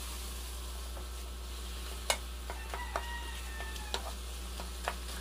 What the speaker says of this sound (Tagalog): Saka natin ilagay natin minarinate na pork ribs. Halo-haloin lang natin mabuti.